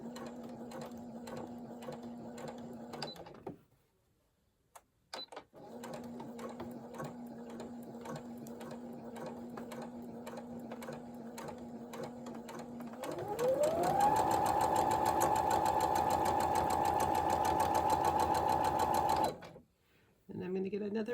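A sewing machine runs in long steady bursts while quilt fabric squares are stitched with a quarter-inch seam, first a low even whir, a short pause, then a faster, higher-pitched run that stops abruptly, close and clear.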